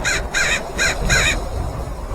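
Four quick crow caws sound in steady succession in the video game Skyrim, moderately loud and harsh, over low ambient game noise with no voices.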